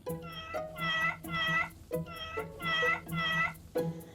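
A robotic toy cat gives a rapid series of about six short, bright electronic meows in even rhythm, close and clear, with no talking over them.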